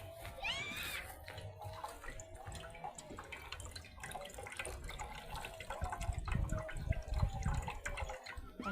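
Homemade banana wine is poured through a sieve, trickling and splashing with wet drips and gurgles over a steady low rush of liquid, loudest near the end.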